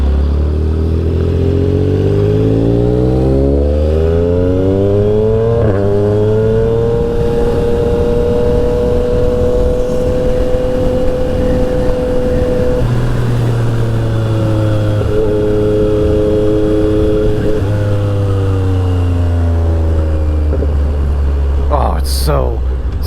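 A Yamaha XSR 900 motorcycle engine revs and pulls through rising and falling gears on a road ride, loud and close with steady wind rush, while a rider talks over it.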